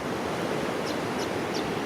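Ocean surf on a beach in Cooloola National Park, a steady broadband wash of waves rolling in close by, with no voices and a few faint bird chirps over the top.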